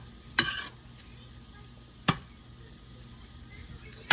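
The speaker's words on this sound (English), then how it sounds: "We are mixing the meat. Yeah, we're browning our meat." Ground beef browning and being stirred in a pan for sloppy joe cheesesteaks: a soft, steady sizzle runs throughout, broken by three sharp scraping clinks of a utensil against the pan.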